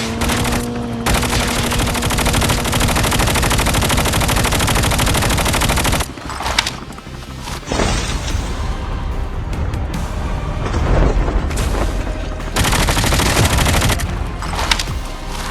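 Continuous automatic gunfire and bursts from a Call of Duty Mobile squad match, loud and dense for about six seconds, then a brief lull before more rapid shooting and shots continue throughout with no talking.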